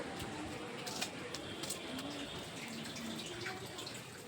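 Water running steadily into a container at home, a continuous splashing hiss with a few faint bird calls in the background while a person talks nearby.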